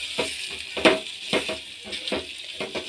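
Ground spices such as coriander powder with salt stir-frying in a pan for tangy-sweet amla chutney, giving a steady close sizzle with repeated soft scraping strokes every half second or so.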